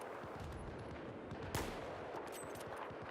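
Distant rolling gunfire in a large 20v20 multiplayer video game match, rapid machine-gun rattle with one sharper shot midway, steady and moderately loud with no talk.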